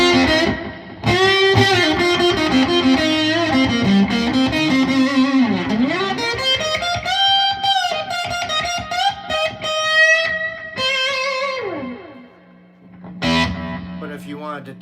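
Distorted electric guitar playing through an overdriven amp with weak breakup quality, gritty sustained chords and bending notes with a crunchy breakup, loud and close.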